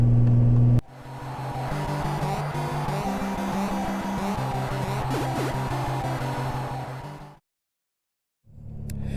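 Honda motorcycle engine revving loud and close, a sustained rough drone with shifting pitch for several seconds, then cut off abruptly into silence before a brief return.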